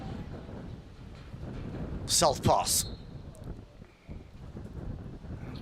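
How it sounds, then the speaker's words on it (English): Gusting high wind buffets the microphone at an outdoor men's masters hockey match between England and Australia, a steady broadband rumble throughout, with brief whistle blasts and a commentator speaking over it. "I shouldn't say breeze, I should say a gusting high wind."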